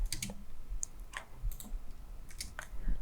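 Clicky keystrokes from typing on a computer keyboard during a live coding demo of a Vue Composition API function, a few quiet scattered taps over about three seconds.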